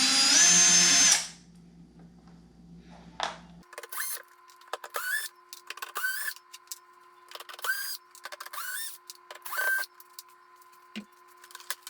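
A cordless power drill backs screws out of the plastic shell of an Arctic King portable air conditioner, short whirring bursts repeating with pauses between, close and clear after a brief loud noise at the start.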